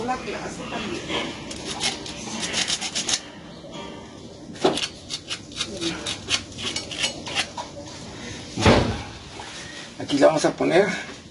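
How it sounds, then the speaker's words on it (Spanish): Sandpaper rubs over a wet, leaking water pipe before patching, in short scraping bursts mixed with clinks and handling noises, while someone talks in Spanish nearby. "Así que una pequeña lijadita aquí, antes de aplicar, sería muy conveniente."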